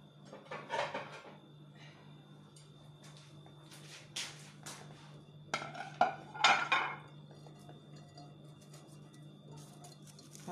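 A plate is fetched and set down in a kitchen during gulab jamun preparation: close ceramic clinks and knocks come in scattered bursts, with a busier cluster of rattling contacts near the end, over a quiet room hum.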